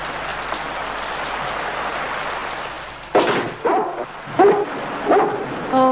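A dog gives four short close barks and yelps in quick succession after a stretch of quiet room noise, each bark followed by a brief whimpering tail.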